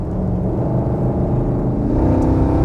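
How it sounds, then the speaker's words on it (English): Dodge Hemi Daytona V8 with its original, never-opened block and resonators in the exhaust, idling steadily nearby in a low, continuous rumble at a car show. "That's that distinctive sound of the Hemi"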